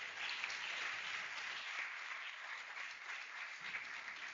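Graduation guests at the African Science Academy applaud speakers, a steady, fairly faint wash of many hands clapping that continues evenly throughout.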